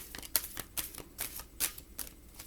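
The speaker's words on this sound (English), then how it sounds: "I want to shuffle it this way." A deck of oracle cards, Oracles of Shadows and Light, is shuffled by hand in quick, close riffling bursts, about five crisp rustles over a couple of seconds with no talking.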